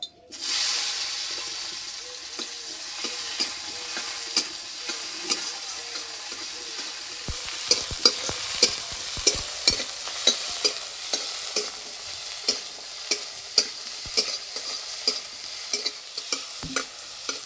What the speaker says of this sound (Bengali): এই তেলে দেবো কোচানো টমেটো